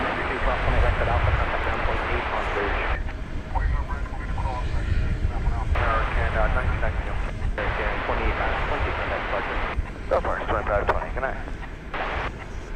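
Airliners at DFW Airport give off a continuous loud roar of jet engines with strong wind-like rumble, steady throughout and partly overlaid by voices.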